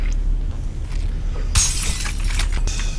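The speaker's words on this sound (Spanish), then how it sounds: "escuchamos un vidrio quebrarse" Glass shatters loudly in the horror video game Condemned: Criminal Origins, a sudden bright crash with scattered tinkling debris rising over a low, rumbling ambient background.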